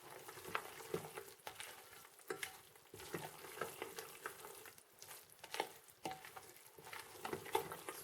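A spoon stirs wet cornbread casserole mix with dry cornbread mix, giving soft close scraping and squelching strokes in an irregular rhythm, fairly quiet, with no talking.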